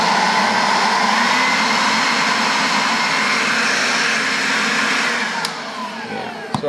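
A SEYVUM cordless blower runs steadily in a workshop with a loud, continuous whooshing drone that holds level for several seconds, then drops slightly near the end.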